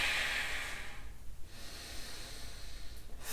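Deep, slow breathing held in a yoga downward facing dog, a long airy exhale followed by quieter breaths, close and alone.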